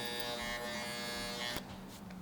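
Electric shaver buzzing during a fade haircut, a close, steady high-pitched hum that cuts out suddenly partway through, no talking.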